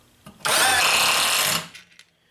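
A Hammerhead HCID120 impact driver sinks a 1.5-inch coarse-thread drywall screw into a 2x4, one loud, close, continuous rattling whir lasting about a second, then winding down.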